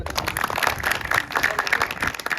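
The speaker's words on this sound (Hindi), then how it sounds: "जोरदार तालियां" Dense, continuous clapping from a crowd, moderately loud and steady all the way through.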